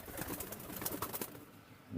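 Soft, low coos of small Pakistani Teddy pigeons close by, a few murmuring calls over a faint rustle.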